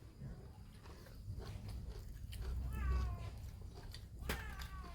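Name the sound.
cat meowing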